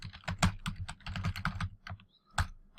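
Rapid bursts of typing on a computer keyboard, close and crisp, with uneven clusters of keystrokes and a brief pause near the end before a final few taps.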